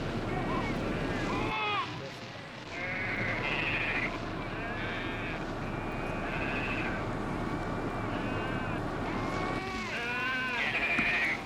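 Goats being moved to safety during a desert locust evacuation bleat repeatedly, several overlapping calls near and far over steady wind rumble and outdoor noise.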